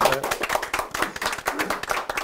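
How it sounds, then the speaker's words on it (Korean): An audience claps for three MCs at a Korean event, a quick run of sharp, uneven hand claps from a modest crowd, fairly close and steady for a couple of seconds. "오늘 그 수고해주신 세 분 MC분들 박수 부탁드리겠습니다."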